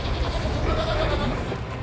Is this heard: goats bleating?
yes